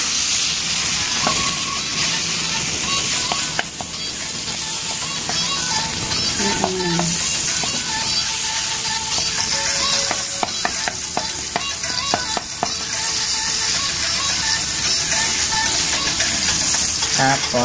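Butter melting in a pan on the stove while making palitaw with yema filling, a steady close sizzle with scraping stirring strokes and light hiss continuing throughout.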